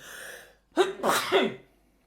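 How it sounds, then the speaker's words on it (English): A single sharp sneeze with a quick inhale before it, close to the mic, followed by quiet. "I sneezed. Apologies."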